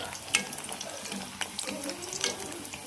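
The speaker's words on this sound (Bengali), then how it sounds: "এই যে এরকম তেল দিতে দিতে ওপরটা পুরো ভাজা ভাজা হয়ে যাবে" Potato flowers deep-fry in oil while hot oil is spooned over them, producing a faint bubbling sizzle with soft scattered crackles and light spoon clicks.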